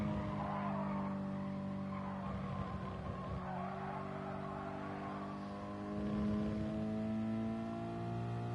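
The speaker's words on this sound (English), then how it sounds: "Lost time there because of a little skid." Race car tyres skid and squeal in GT Sport, a long wavering screech over a steady engine drone that swells again near the end, with no voices.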